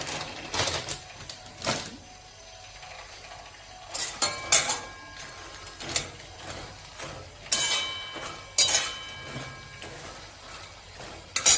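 Makhana (fox nuts) roasted in a pan over low gas flame, repeated sharp metallic clanks and scrapes of a spoon against the pan at irregular intervals, close and fairly loud, with a light rattle of the nuts between strikes.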